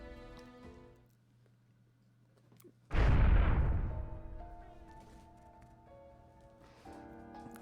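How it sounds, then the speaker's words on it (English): Cannon fire in the video game Hakuoki: Edo Blossoms: a single loud, deep blast that booms and rumbles for several seconds before fading, over quiet background music. "Cannon fire shook the ground with piercing bombast as we edged closer to Ueno."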